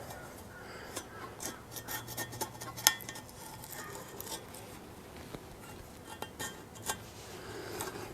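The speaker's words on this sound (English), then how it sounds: "Scraping off the old silicone crap." Scraping old silicone sealant off car parts on a 1955 vehicle being prepped for copper paint: irregular scratchy rasps and light metallic clinks, moderately faint and steady, with no talking.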